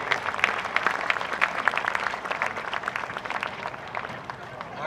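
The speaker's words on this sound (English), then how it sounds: "Let's have one more round of applause for the cast from Tuck Everlasting." An audience claps warmly for the Tuck Everlasting cast at a city band concert, a broad, sustained round of applause filling the room and slowly thinning toward the end.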